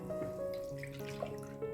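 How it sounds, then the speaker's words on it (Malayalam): Water splashes and trickles as roughly half a cup is poured into a kitchen mixer jar to rinse it, a short, continuous pour heard close up. "ഈ ഒരു മിക്സിയിലേക്ക് ഒരു 1/2 കപ്പോളം വെള്ളം ഒഴിച്ച് നമുക്ക് എന്ത് ചെയ്യാം, ഒന്ന് കഴുകിയെടുക്കാം"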